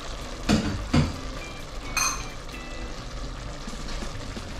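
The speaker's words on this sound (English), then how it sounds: "Right, let's give a stir." Spices being stirred into a curry in a pot, with a few clattering scrapes and a brief sizzle over a steady cooking background, close by.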